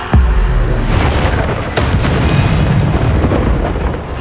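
Bombarda blasting spell from the Hogwarts Legacy video game: a loud, close, booming explosion with a deep rumbling tail, followed by a second burst at about 1 second and a third at about 1.8 seconds.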